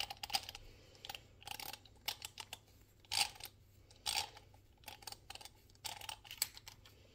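Small metallic clicks and scrapes come up close and quiet in uneven bursts as a Timemore Chestnut S3 hand coffee grinder is unscrewed and taken apart by hand.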